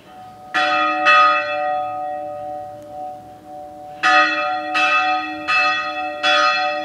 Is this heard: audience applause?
no